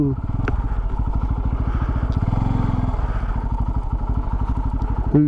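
Motorcycles ride past on a hill road at Narayanagiri, one of them a Bajaj Pulsar 250, giving a loud, steady, rapidly pulsing engine drone that runs through the whole stretch with a few clattering knocks and no talk.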